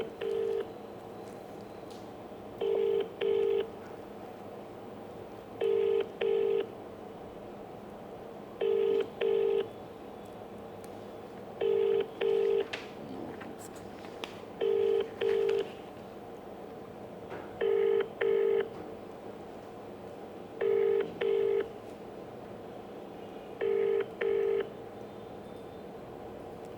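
A phone call rings out: paired ringback tones repeat about every three seconds at a steady rhythm, moderately loud over a faint background hiss.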